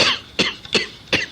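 A narrator's voice imitates a bout of coughing from campfire smoke inside a tent, about four short, harsh coughs in quick succession, close and fairly loud with nothing else behind them.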